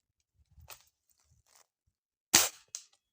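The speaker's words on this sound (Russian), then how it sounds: "Давайте второе выстрел по полторашке на 60 метров" An air rifle fires at a plastic 1.5-litre bottle 60 metres away outdoors in cold wind: one sharp, loud crack followed a moment later by a shorter, fainter pop, with soft rustling and handling noise before it and no talking.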